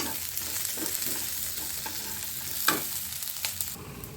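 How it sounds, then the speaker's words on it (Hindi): Onions fry in a pan until golden brown for paneer butter masala, a steady close sizzle broken by a few stirring scrapes and clicks, with no talk. "बस अब हम इसे गोल्डन ब्राउन होने तक प्याज को फ्राई करेंगे"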